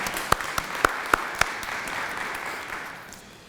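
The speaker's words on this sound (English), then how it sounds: "can we have a round of applause for our sponsor for today's talk?" Applause from a modest audience at a talk in a church setting, a few sharp distinct claps standing out near the start over a soft wash of clapping that gradually dies away.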